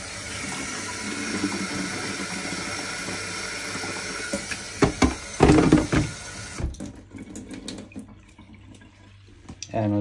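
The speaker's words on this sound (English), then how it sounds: "You fill up your tank with water." Tap water runs into the tank of a De'Longhi Corso automatic coffee machine, a steady splashing flow that breaks into a few louder gurgling bursts before dying down to quiet handling noises.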